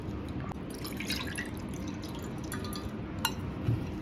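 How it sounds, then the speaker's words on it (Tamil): Tamarind is squeezed and dissolved by hand in water, producing faint, close, wet squishing with scattered small drips and splashes over a quiet kitchen background. "இப்போது புளியை நல்லா திக்காக கரைச்சிக்கோங்க."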